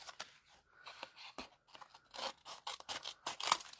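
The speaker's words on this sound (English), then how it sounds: "And then I just trim it off." Scissors snip through cardstock during a Stampin' Up! card-making class, a series of short, close crisp cuts and paper rustles at a soft level with no talking.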